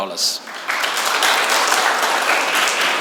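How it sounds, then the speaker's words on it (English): An audience at a CEO roundtable event at the Nehru Institute of Technology breaks into applause: a brief burst of claps, then a sustained, fairly close wash of clapping that carries on steadily to the end. "thanks for the claps"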